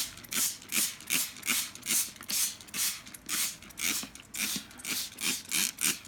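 A wet paper towel is patted down in a steady rhythm inside an acrylic-paint wet palette, about a dozen soft, damp dabs close by, with no talking.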